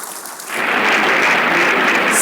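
A standing audience at a Nigerian formal event honoring a retired general breaks into applause, starting after a brief quiet moment and swelling into loud, dense, continuous clapping that holds to the end.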